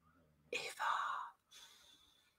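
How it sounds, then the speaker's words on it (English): A dog snores indoors nearby, giving two breathy, rasping snores with a short pause between them, set against quiet room sound. "Can everyone hear my dog snoring?"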